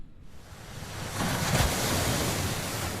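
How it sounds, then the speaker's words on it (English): High ocean waves crash on a Southern California beach ahead of an incoming storm, a breaker building into a broad roaring wash that stays loud and close, with wind buffeting the microphone. "they're really concerned about the high waves once again"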